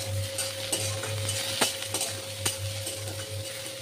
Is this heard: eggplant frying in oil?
yes